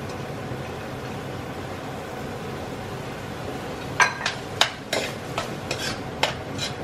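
Empanada filling with green peas and raisins stirred in a pan, a steady low sizzle throughout, then a run of sharp spoon scrapes and clinks against the pan in the last few seconds.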